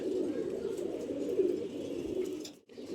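A pigeon coos steadily and close by in a low, continuous rolling murmur for nearly three seconds, with a brief break near the end and no voices.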